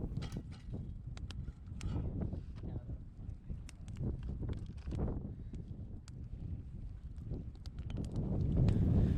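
Gusty wind buffets the microphone at a campfire where fish is frying, a loud low roar that swells and drops, with scattered crackles and clicks over it, growing louder toward the end.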